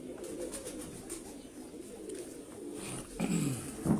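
Domestic breeder pigeons coo softly in low, rolling murmurs, nearby and continuous, with a louder burst of cooing toward the end.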